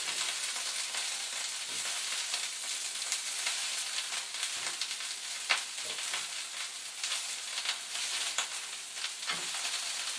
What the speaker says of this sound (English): Tossing it in the oil, coating it with that garlicky flavored oil